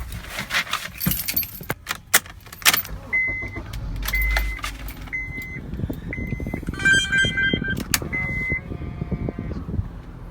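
A car passing close by, its engine and tyre noise swelling and fading, mixed with metallic jangling, clattering bursts and short repeated electronic beeps toward the end.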